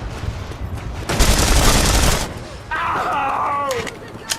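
Gunfire in The Saboteur, a World War II action game: a loud burst of shots in the middle, then someone shouts over the game sounds.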